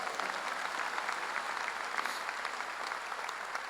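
Sustained applause from a large crowd at a church revival meeting, an even wash of many hands clapping at a distance, fairly soft and continuous throughout.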